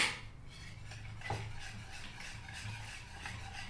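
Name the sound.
mixing rava uttapam batter with salt and Eno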